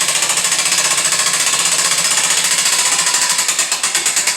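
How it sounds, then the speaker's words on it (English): A winch on a no-ladder assembly system is cranked in reverse by hand, giving a fast, loud, even ratcheting clatter that repeats rapidly and steadily for a few seconds, with no talking. "we can just go ahead and put our winch in reverse. Never letting go of this handle. I'm going to crank it back."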